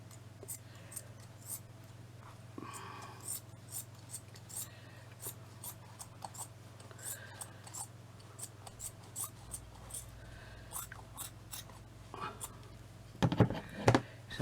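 Scissors cut craft material for a wall plaque, giving a series of quiet close snips and rustles spread through the clip, louder near the end, while a soft voice talks.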